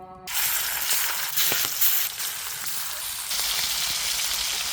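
Prawns drop into hot soybean oil and start frying, setting off a sudden loud hiss and spattering crackle that stays close and steady throughout.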